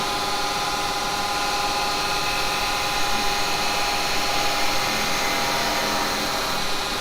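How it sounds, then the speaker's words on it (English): A wood lathe spins a piece of firewood being turned, giving a steady, close whirring motor drone with a slight swell in loudness midway, no voices. "Okay, stop the lathe."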